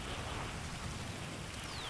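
Steady rain hisses as an even, dense wash of droplets in Grand Theft Auto Online, constant and fairly soft, with no voices over it.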